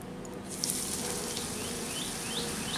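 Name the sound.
puffed rice pakoras frying in hot refined oil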